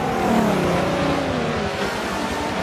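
A Pagani Zonda C racing at Watkins Glen in Forza Motorsport 7, its engine roaring loudly and continuously while another car runs close alongside, with no voices.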